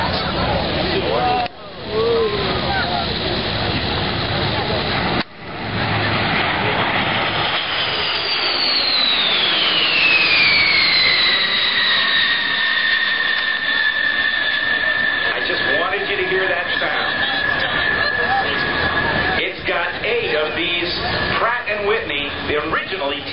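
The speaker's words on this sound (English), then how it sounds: "representing your United States Air Force, it's the incredible B-52 bomber" A B-52 bomber with TF33 jet engines roars past at an air show, a loud sustained rumble with a sweeping whine as it passes, over a crowd and an announcer's amplified talk.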